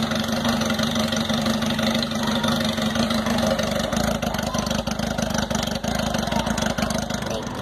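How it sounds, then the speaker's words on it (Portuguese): A carbureted Honda Hornet motorcycle with a sport exhaust idles close by, a steady, loud, uneven low rumble with a slight lumpy pulse that runs throughout without talk. "Olha a lenta, apareceu. Tá parecendo um trator"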